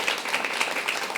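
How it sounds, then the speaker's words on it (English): Audience applause at an inspirational gathering, a short, fairly soft burst of scattered hand clapping with a rippling, uneven texture and no talk over it. "Another round of applause"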